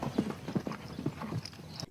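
Horse hooves clip-clop in a steady, close, fairly loud rhythm of about eight distinct strikes, with no talking over them.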